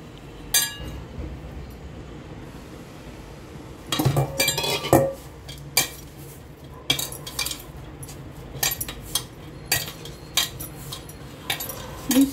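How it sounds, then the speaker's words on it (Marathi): Ragi flour being mixed with coriander-cumin powder and turmeric for thalipith, a series of metallic spoon clinks and scrapes against a bowl in uneven bursts, close by with no talking. "नाचणीचं 1 वाटी पीठ, धने जिरे पावडर, हळद मिक्स करून"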